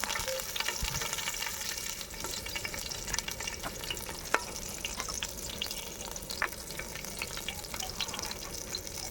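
Curry leaves and green chillies fry in a pan for chicken pulao, making a soft steady sizzle and crackle with occasional sharp pops and light stirring, fairly faint and close.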